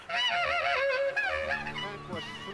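Honking birds in the adventure video game Broken Age, a loud, close flurry of goose-like calls overlapping in a rapid, squawking chorus, with no speech.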